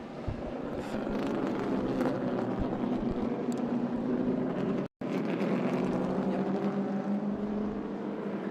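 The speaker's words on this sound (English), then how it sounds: "the big four, big sedans, and the sports cars roaring out" Sports cars and big sedans roar around Virginia International Raceway during SVRA vintage racing at the Heacock Classic Gold Cup, a loud, continuous engine drone that cuts out for an instant midway and then resumes.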